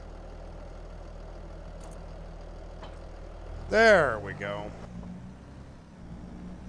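Tractor engine in Farming Simulator 22 idling as a low steady hum throughout, with someone speaking briefly over it near the middle.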